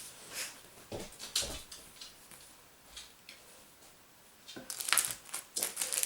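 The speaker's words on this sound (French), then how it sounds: "Désolé les petits bruits que vous entendez, c'est le chien qui s'étire." Soft rustling and creaking noises in short bursts as a dog shifts and stretches nearby, with faint ticking and crinkling in a quiet room.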